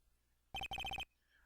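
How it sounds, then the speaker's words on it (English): A short electronic ringtone from the video game Phoenix Wright: Ace Attorney – Justice for All: a quick burst of bright, repeated beeping tones in two rapid clusters, loud and close, then silence. "And what is with this stupid sounding ringtone?"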